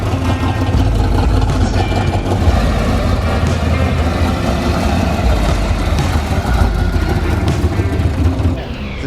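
A Ford Galaxie muscle car's engine runs steadily at idle, a loud, close, continuous low rumble with a slightly lumpy pulse, holding for several seconds.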